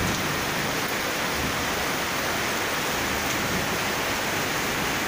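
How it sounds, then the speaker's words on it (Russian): Heavy tropical rain pours down steadily in Bali, a dense, even roar of water close by with no pauses and no voices. "после того, как дождь закончится, через полчаса уже будет сухо и хорошо"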